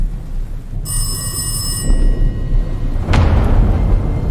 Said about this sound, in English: Now let's go answer the phone.